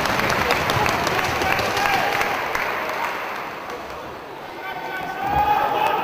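Professional wrestling fans at a tag team match clap along in a crowded arena, a dense steady patter of applause that dips slightly midway and rises again, with an announcer talking over it.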